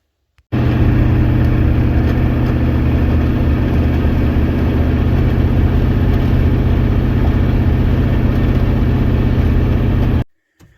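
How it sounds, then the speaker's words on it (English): A 1990 Ford F-250 truck with a suspected bad transmission while towing, giving a loud, steady low rumble and drone that runs unbroken for about ten seconds, then cuts off abruptly. "it started making some pretty bad noises, and you guys heard that in last week's video, but I'll put it right here for you to hear again"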